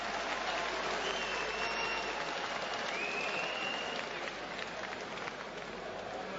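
Boxing arena crowd roaring and applauding during Dereck Chisora's fight with Edmund Gerber, a dense continuous wall of cheering and clapping with a faint whistle-like tone rising through it.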